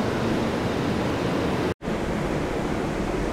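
Loud, steady rushing water pours close by beside an old mill near Nordhorn, Germany, a dense continuous roar that briefly cuts out for an instant before resuming, with no talking.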